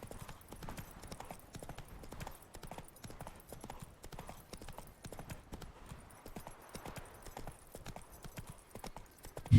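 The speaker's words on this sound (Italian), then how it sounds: "Guarda che si ferma, sto imbecille di un cavallo." Horse hooves clip-clop at a steady galloping rhythm in The Witcher 3 video game, a continuous, even patter of hoofbeats at moderate level with no speech.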